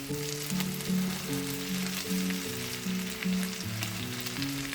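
Fresh spinach leaves are stirred into a sizzling sauce for salmon, a loud, dense frying hiss with soft stirring motions, close and continuous, with a low melodic background tone underneath and no voices.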